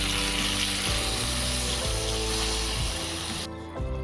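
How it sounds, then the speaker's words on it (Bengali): Water poured into a pan of fish curry, a steady full rushing pour that runs loud and continuous for several seconds before cutting off near the end, with no talk. "এখন আমরা দিয়ে দেবো পরিমাণ মতো জল"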